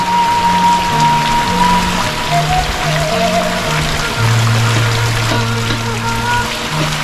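Heavy rain pours down in a steady, dense wash with a constant hiss, and no voices are heard.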